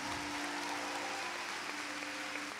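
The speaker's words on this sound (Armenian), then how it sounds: "այս ծափահարությունները ձերն են" Concert audience applauding at a live show in Yerevan, a steady, dense wash of clapping that holds evenly throughout with no voices over it.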